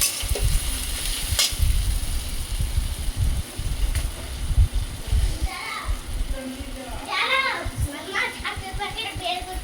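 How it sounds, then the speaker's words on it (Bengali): Onions sizzle steadily in a pan with occasional stirring scrapes, while children chatter and play nearby. "দেখো পেঁয়াজটা হাফ ভাজা হয়ে গেছে"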